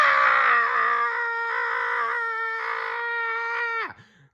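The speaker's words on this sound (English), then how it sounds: "When Mater tasted the wasabi, he screamed" A loud, sustained, high-pitched cartoonish scream from Mater after tasting wasabi, held for about four seconds before cutting off abruptly.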